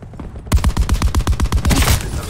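Titan light machine gun firing on full auto in Call of Duty Black Ops 4, a quiet start then a loud, fast, steady burst of roughly a dozen rounds heard close, with no talk.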